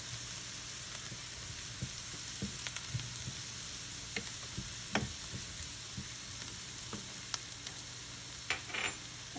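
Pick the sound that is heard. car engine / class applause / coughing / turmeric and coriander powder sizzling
turmeric and coriander powder sizzling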